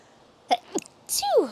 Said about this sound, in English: So now here comes the sneeze.